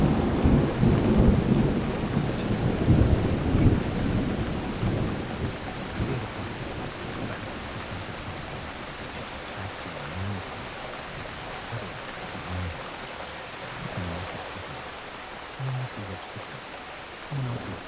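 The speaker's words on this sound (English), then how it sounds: "The rain continues." Rain falls on a New York City street at night, a dense hiss that is heavier with rumbling at first, then settles into a softer, steady patter with occasional drips.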